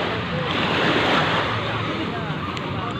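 Sea waves and wind roar steadily around a boat coming in to a shore where motorboats are moored, close and noisy with wind buffeting the microphone.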